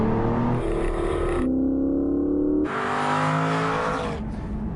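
An Aston Martin Virage grand tourer revs its engine in a loud, rising and falling roar that shifts pitch through several surges, heard alone and close.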